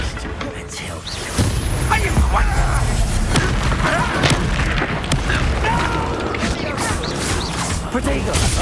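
Confringo blasting spell explosions in the Hogwarts Legacy video game, a dense, loud battle of booms and crashes that runs steadily throughout, with spoken game dialogue over it.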